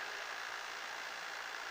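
Light aircraft engine idling steadily with carburetor heat pulled, a constant even hum heard at a moderate distance with no roughness or change over the short stretch.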